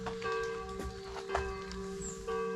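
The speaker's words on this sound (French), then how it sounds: "Écoutez. C'est les cloches." Church bells ring with steady, sustained tones and a few louder strikes, the metallic hum lingering throughout at moderate distance, with light outdoor rustling underneath.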